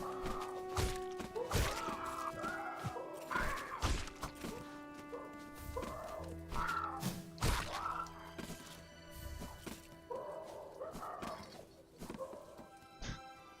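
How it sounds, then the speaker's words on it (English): Raspy, hoarse bird squawks from the Silksong video game recur in short bursts amid thwacks and impacts, with no talking. "These birds all sound like they smoke like 12 packs a day"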